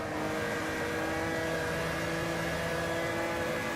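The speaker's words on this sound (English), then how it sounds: "We're going to do it in third gear, but right on the rev limiter." Opala 86 stock car engine held on the rev limiter in a racing video game, a steady loud droning buzz with sustained high engine tones and no talk.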